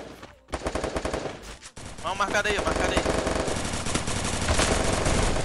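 Rapid machine-gun bursts and gunshots in an online 4v4 shooter match, loud and nearly continuous, with players talking over the fire.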